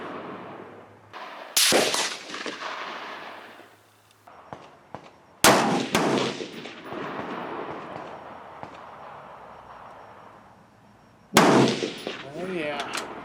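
Three separate loud rifle shots from a .30-06, fired at a steel post at a range, each a sharp crack followed by a long ringing decay, spaced several seconds apart with quiet between them.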